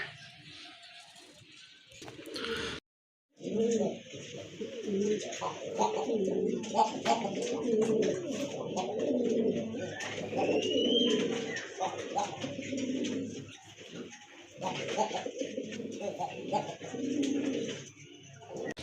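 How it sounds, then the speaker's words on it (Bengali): A pair of pigeons coos in repeated low, throaty rolling calls close by, with a brief silent gap early on and faint chirps and rustling around them. "আগা থেকে মাথা পর্যন্ত খুবই চমৎকার এক জোড়া কবুতর"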